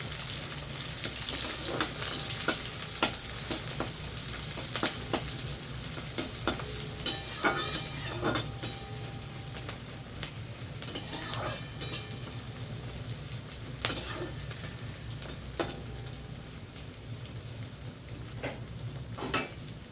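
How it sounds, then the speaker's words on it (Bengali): Steady crackling sizzle of onions frying in a hot pan, with repeated scrapes and clinks of a spatula stirring throughout. "পেঁয়াজটা ভালো করে লাল লাল করে ভেজে দেবো।"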